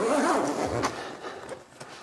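The zipper on a Jeep Wrangler JK soft top is pulled along in a few short rasping strokes, close and fairly loud, with brief fabric rustles between pulls.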